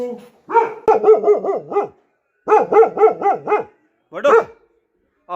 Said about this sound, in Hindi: कितना जोर जोर से भौंक रहा है, पता नहीं क्या आ गया बाहर।